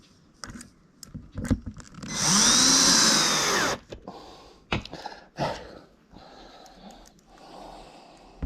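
A power drill drives screws into kitchen cabinets: one sustained, loud whirring run of about a second and a half, framed by knocks, clatter and short tool bursts close by.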